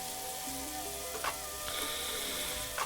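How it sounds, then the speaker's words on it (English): Herb and Dijon mustard lamb chops frying in a pan over medium heat, giving a faint, steady sizzle with a couple of brief clinks partway through and no talking. "I let them sit on the pan and cook."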